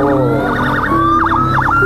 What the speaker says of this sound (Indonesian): Ternyata ambulan